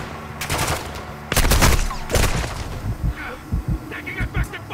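Gunfire in Call of Duty Modern Warfare II at Al Mazrah: loud, close bursts of rapid automatic fire, then a string of separate thudding shots or impacts, with brief voice sounds mixed in.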